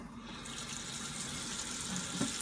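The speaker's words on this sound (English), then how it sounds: "put a little bit of water in here" Water pours steadily into a pan, a continuous splashing gush that stays even throughout, close by and with no voices.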